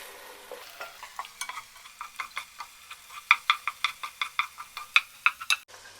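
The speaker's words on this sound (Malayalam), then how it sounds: "2 മുട്ടയൊന്ന് ചിക്കി എടുക്കണേ" Eggs with a little salt scrambled and stirred in a frying pan for restaurant-style chicken fried rice, a steady run of clicking utensil scrapes against the pan over a soft sizzle, close and moderately loud with no talking.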